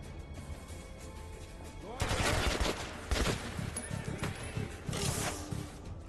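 AK rifle fire bursts out in Metro 2033 Redux, heavy automatic volleys starting suddenly and repeating in loud, close clusters, with a voice talking over the shooting.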